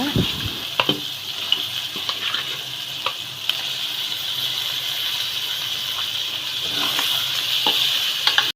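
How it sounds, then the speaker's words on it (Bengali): Close, continuous sizzling of rohu fish frying in oil and spice paste, with scattered clicks and scrapes of a spatula stirring the pan. "মশলা থেকে তেল ছেড়ে দিলে মাছ দিয়ে দেব"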